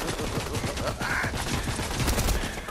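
Rapid, continuous gunfire from a shooting video game, a dense loud fusillade of overlapping shots with a faint voice underneath.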